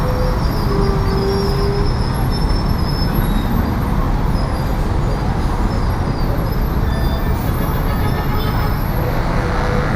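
Road traffic at night in Quezon City: a loud, continuous roar of passing vehicles with engine rumble and road noise, no talking.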